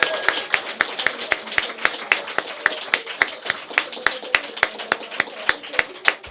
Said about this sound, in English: Can we just have a round of applause for this amazing work?